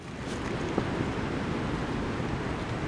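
Wind blows steadily outside a cold-weather shelter with no fire, a constant broadband rushing hiss that stays even and moderately loud throughout, with no voices.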